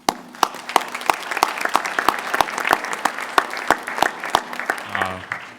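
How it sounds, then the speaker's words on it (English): Audience clapping at a town meeting, a loud ragged patter of many hands with sharp individual claps standing out, fading near the end as someone begins to speak. "now that you guys have all clapped for me"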